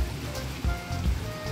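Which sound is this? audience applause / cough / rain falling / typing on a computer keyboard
rain falling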